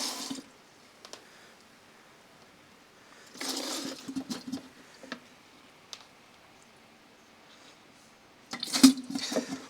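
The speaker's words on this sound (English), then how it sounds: "So what I'll do with this is I'll just water it." Water poured over a potted plant sitting in a drip tray, with soft splashing bursts around the fourth second and again near the end, and quiet trickles and drips in between.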